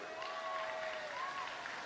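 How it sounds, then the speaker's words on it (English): A festival audience at a children's heritage competition claps steadily throughout, a dense continuous patter of applause at moderate level with no speech over it. "So, let's give a hearty round of applause."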